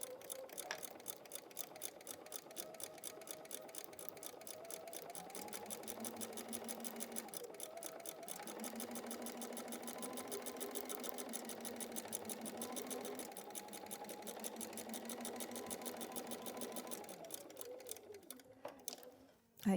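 A sewing machine stitches quilt borders onto fabric with a steady, fast mechanical clatter, pausing and changing pace briefly before stopping at the end, fairly quiet and close.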